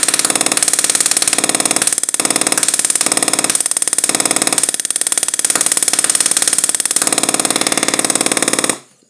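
A Tesla coil runs at full power, giving a loud, continuous harsh buzz with brief dips in intensity, close by, before cutting off abruptly at the end.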